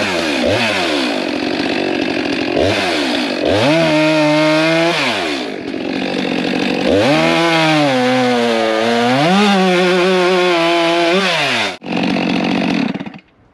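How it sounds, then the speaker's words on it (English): A new Stihl 462 chainsaw clears trees on a mountaintop property, its engine loud and close, revving up and down through repeated cuts with brief drops to idle and a short pause near the end. "That's a good saw."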